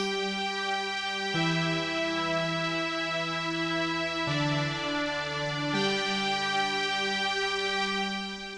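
A remade chorus of a song plays with layered synths and piano, sustained chords shifting every few seconds in a smooth, dense wash at steady volume, with no voices.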